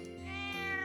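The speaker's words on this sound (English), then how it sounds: "Meow. Meow. Meow. Meow." A cat meows in the video game Trails of Cold Steel, one drawn-out, harmonic-rich meow that rises in pitch, close and clear with no talk over it.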